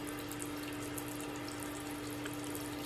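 Water poured into the enclosure of a large female Theraphosa stirmi tarantula, giving a steady, continuous splashing trickle that stays even throughout, with no voices.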